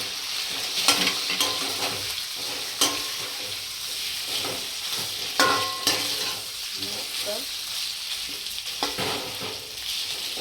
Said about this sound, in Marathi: बटाटा चांगला तेलामध्ये परतून घ्यायचा आहे